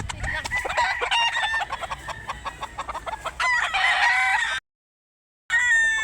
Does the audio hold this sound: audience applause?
no